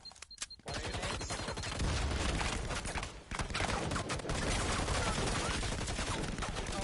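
Dense, continuous automatic gunfire from a multiplayer first-person shooter match, loud and sustained after a brief quieter opening, with rapid overlapping shots and little pause throughout.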